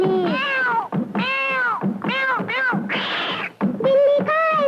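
Several meowing cat sounds in a Hindi song, sung in a rhythmic series of bright, wavering meows with short gaps, loud and close, likely a voice imitating a cat.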